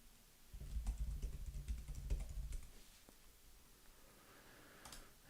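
A quick burst of typing on a computer keyboard for a Google search, rapid close clicks over a low hum for a couple of seconds, then a few sparse taps as things quiet down.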